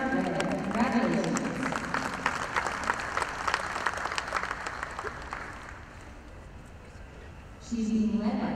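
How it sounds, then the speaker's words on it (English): Crowd at the All-American Dairy Show applauds the Junior Champion cow in the show ring, scattered clapping mixed with a voice over the public address and arena bustle, fading midway before the announcer resumes. "Let's have another round of applause for our Junior Champion Red White Eric."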